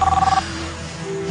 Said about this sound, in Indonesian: HP Nyonya bunyi.